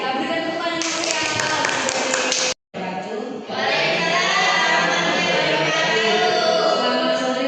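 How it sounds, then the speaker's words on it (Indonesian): A live audience at an Indonesian teachers' good-practice sharing session gives a burst of lively applause, steady many-handed clapping with a brief cut partway through, mixed with voices and music-like tones. "Kita berikan tepuk tangan yang meriah."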